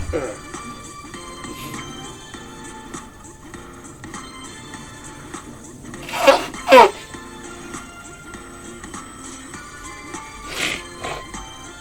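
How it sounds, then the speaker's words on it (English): A person blows their nose in two sharp, loud honks midway through, then once more near the end, over a quiet, steady tonal background. "I gotta blow my nose"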